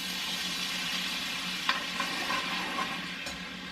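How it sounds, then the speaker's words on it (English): Ground beef with sauce cooks fast in a pan, giving a steady close sizzle with a few soft stirring scrapes. "I'm just putting the sauce in the ground beef"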